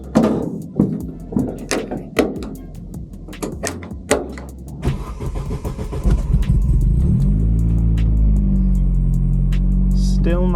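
Vauxhall Astra VXR with launch control and ignition cut tuning: clicks and knocks give way to the engine cranking, firing and settling into a loud steady idle, up close.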